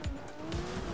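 A car skids with a steady tire squeal and engine roar while driving in Sleeping Dogs, loud and close, with two brief bursts of noise punctuating the screech.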